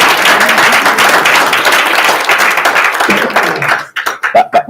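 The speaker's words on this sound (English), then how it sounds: "I think they deserve a warmer round of applause." Applause from a conference audience at a government social media summit, a dense, steady clatter of many hands that thins into scattered, separate claps near the end.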